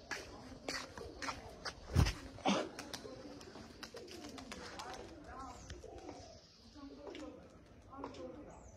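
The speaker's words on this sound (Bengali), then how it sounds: "আমার কাছে যে গলালাল কবুতরগুলো আছে সেগুলো এখন ভালো টেম্পারে আছে" Red-necked pigeons cooing near and far, soft low throaty calls repeating at intervals, with someone talking over them and a few thumps.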